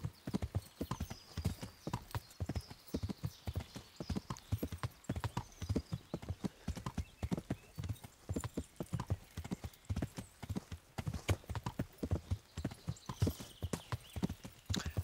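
Steady clip-clop of horse hooves on a road in the video game Kingdom Come: Deliverance, a brisk rhythmic trot continuing throughout, close and fairly even in loudness.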